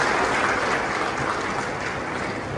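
A large audience at a Congress government women's event claps continuously, a dense, even wall of applause sustained throughout without any speech.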